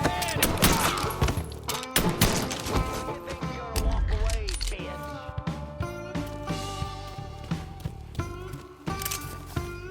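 Gunfire rattles through a Mafia 3 firefight in loud, rapid bursts of sharp cracks layered over a musical score, with shots continuing irregularly throughout.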